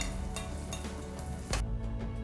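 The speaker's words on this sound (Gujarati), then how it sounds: "હાઈ ફ્લેમ ઉપર જ થોડીક વાર સાતળી લેશું." Grated ginger, green chilies and green garlic sautéing in hot oil over a high flame, giving a steady close sizzle with faint stirring clicks throughout.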